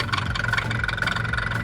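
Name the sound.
Arctic Cat four-stroke snowmobile engine idling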